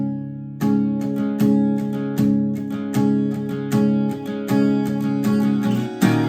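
An acoustic guitar strums the chorus of a song in a steady rhythm of chords, loud and up close, with no voice over it.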